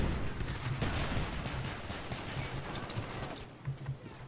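Sustained gunfire in the shooter game Call of Duty: Black Ops 1, with dense, rapid bursts crackling continuously from start to finish at a steady, close level.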